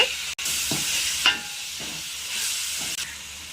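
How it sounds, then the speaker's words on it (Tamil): Chopped tomatoes, onion and green chilies sauté in a pan for a sardine fish curry, giving a loud, continuous sizzle with occasional scraping stirs and brief clinks of a spoon. "குட்டி குட்டியாக கட் பண்ணி ஆட் பண்ணிட்டு அதையும் நல்லா வதக்கிக்கோங்க"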